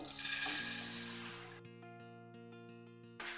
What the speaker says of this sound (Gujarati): સૌથી પહેલા આપણે મમરાને 1 મિનિટ માટે શેકી લઈએ